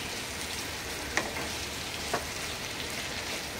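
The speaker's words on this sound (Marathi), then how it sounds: "आता 2 मिनिटं झाकण उघडं ठेवून आपण असं परतून घेऊया" Onions, tomato and chilli sauté over a low flame in an uncovered pan, giving a soft, steady sizzle with a couple of small clicks of stirring.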